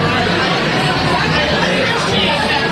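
A large crowd in Iowa waits at night to see presidential candidates, a continuous loud hubbub of overlapping chatter and murmuring voices filling the space without pause.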